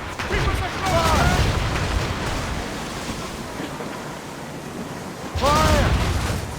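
Naval cannon fire from sailing ships in Assassin's Creed Rogue, booming over wind and crashing ocean surf, with a loud blast near the start and another near the end, amid shouted voices.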